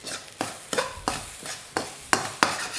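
Nasi goreng fried rice with shrimp paste being stirred and pressed in a wok, giving a series of sharp, evenly spaced scraping strokes over a low sizzle, close and fairly loud, with no talking.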